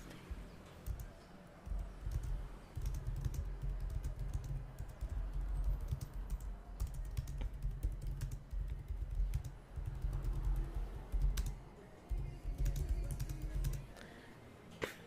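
Steady keyboard typing of notes for a 1998-style interview, rapid clacking keys in close ASMR detail, running almost continuously with brief pauses and no talk.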